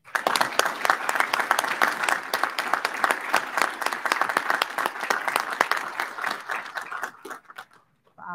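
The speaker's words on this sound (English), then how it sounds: "Please join me in a round of applause" Sustained applause from a large audience at a university presidential inauguration, dense clapping that holds steady for several seconds, then thins out and fades to near silence.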